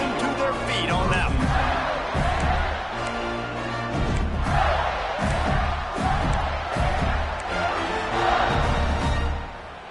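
A large stadium crowd at a college football game roars and cheers continuously after a long kick return, with a broad, loud wash of voices swelling and dipping throughout.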